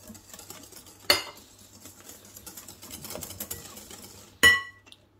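A whisk works through chocolate cake batter with oil in a bowl: light rapid pattering between two sharp clinks against the bowl's rim, with no one talking.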